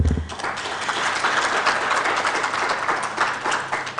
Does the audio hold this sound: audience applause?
yes